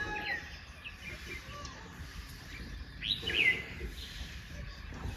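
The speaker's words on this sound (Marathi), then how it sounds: "सकाळी सकाळी मस्त एकदम थंड वातावरण पक्ष्यांचा आवाज कोंबड्यांचा आवाज" Birds chirping and calling in a cool early-morning village setting, a brief louder burst of song near the middle over steady faint background noise; no clear rooster crow stands out.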